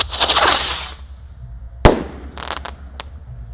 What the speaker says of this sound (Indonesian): Ini ada mercon Ski Cruiser guys.